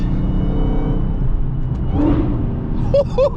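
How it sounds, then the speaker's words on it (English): A Dodge car's engine rumbles steadily during a downshift beneath a bridge, a deep continuous drone with a brief rise in revs near the end while voices speak over it. "We're gonna downshift one more time underneath the bridge."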